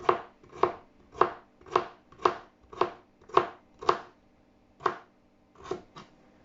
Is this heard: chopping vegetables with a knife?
yes